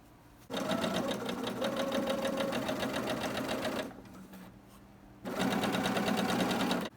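A sewing machine chain-pieces fabric for a Christmas tree skirt, running in two steady bursts with a short pause between them, close and fairly loud with no talking.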